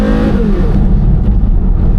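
A Porsche Carrera GT engine accelerates loud and close, its pitch climbing sharply and then dropping as it shifts, settling into a dense, steady roar with no voices.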